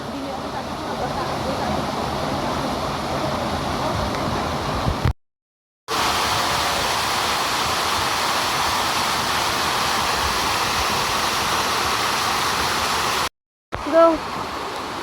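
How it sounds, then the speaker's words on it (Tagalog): Dragon Falls, a waterfall on South Lantau, pours in a steady, loud broadband rush close by, continuing unbroken apart from two brief dropouts, with a faint voice near the end. "Dragon Falls."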